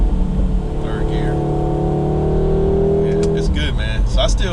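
A 2022 Audi S3 downshifts into third and the engine drone drops, then the exhaust lets out a string of crackling burbles near the end, with someone talking over it.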